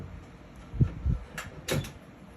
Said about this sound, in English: I hide my resin in this drawer.